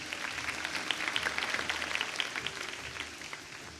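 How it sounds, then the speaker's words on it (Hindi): Audience clapping during a live Ramadan iftar special broadcast, a moderate patter of hands under faint background hum, fairly brief and easing off toward the end. "इनके लिए तालियां होनी चाहिए।"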